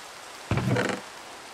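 A half-second burst of Minecraft rain-like hiss and patter with a low thud at its onset, then it cuts off abruptly into quiet.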